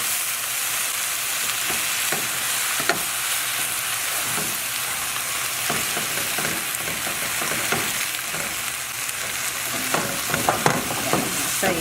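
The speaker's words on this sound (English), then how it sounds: "you don't want to overcook the spinach. Just give it a few, a few toss." Spinach tossed and sautéed in a hot frying pan for a spinach and mushroom omelette, giving a steady broadband sizzle with scattered clinks and scrapes of stirring, close and continuous with no talking.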